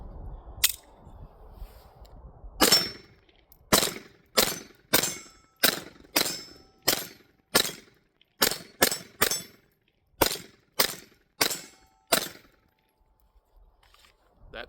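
TX22 pistol firing CCI Mini Mag .22 ammunition at a range: about seventeen sharp, loud reports in an uneven string, some in quick pairs, separated by short silences.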